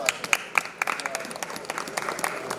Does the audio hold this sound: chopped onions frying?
no